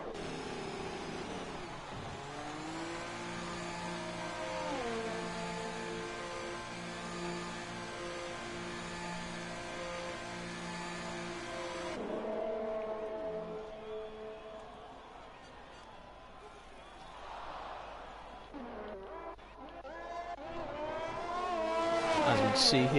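Race car engine on a flying lap in the video game F1 2021 at the Saudi Arabia track, rising through gears in repeated high-pitched climbs and shifts, moderately loud, with a quieter stretch before it builds again near the end.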